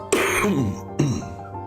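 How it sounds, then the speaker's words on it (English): Two harsh coughs or throat clears close to the microphone, one after the other, loud and rough. "Sorry for the cough in the mic there"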